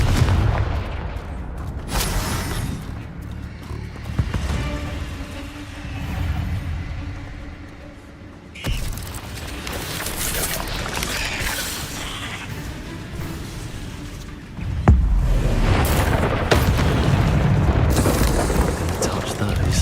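Confringo spells in Hogwarts Legacy set off heavy, booming explosions that come in several waves, loud and near, with rumbling tails and voices talking over them.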